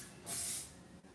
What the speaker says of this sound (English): So you usually want to spray it over a sink.